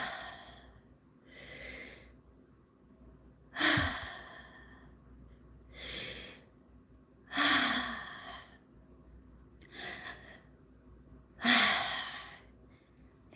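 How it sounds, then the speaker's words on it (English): Guided deep breathing exercise for anxiety: slow, audible inhales and long sighing exhales repeat in a steady rhythm, close and clear, with about four full breath cycles. "So let's do some deep breathing."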